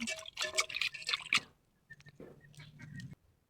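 Chicken skin is rinsed with water: a few short bursts of splashing and dripping, close and fairly quiet, with brief pauses and a soft trickle near the end, no speech.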